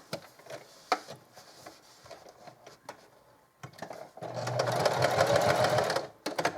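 A sewing machine stitches a zippered pouch made from a placemat, running in a loud steady burst after a few seconds of quiet handling clicks and rustles.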